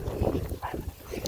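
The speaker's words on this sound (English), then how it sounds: "we've got 2 Marigold puppies back there" Marigold puppies whimpering and yipping in short, uneven bursts close by, with soft rustling and a faint voice underneath.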